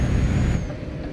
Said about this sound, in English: Can you hear the truck?